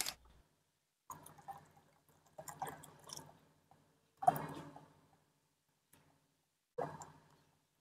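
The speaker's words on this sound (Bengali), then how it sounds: "এবার আমি এর মধ্যে কিন্তু জল মেশাবো।" Water poured in short splashes into a bowl of raw mango, mint leaves and black salt, several separate quiet bursts with silence between, close and soft.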